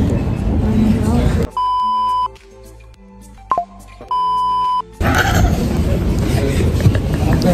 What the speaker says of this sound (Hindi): चल मैं बीप डाल दूंगी